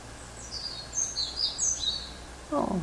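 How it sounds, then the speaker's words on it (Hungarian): Small birds chirp in quick high twittering bursts over a low steady hum, with another faint voice-like sound near the end. "Kis madarak is vannak."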